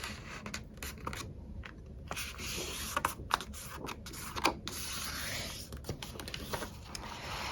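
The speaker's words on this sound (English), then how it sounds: "we're going to fold our outer pieces inward" A 12 x 12 sheet of paper being folded along a score line, heard as soft, close rubbing and light scraping strokes that come and go, with a few sharper crinkles, faint and without speech.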